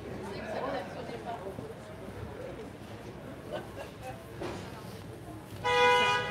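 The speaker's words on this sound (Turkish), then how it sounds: "sürekli bir korna sesi" Street noise with chatter in Montmartre, Paris, then a loud, sustained car horn blares near the end from a car blocking the road.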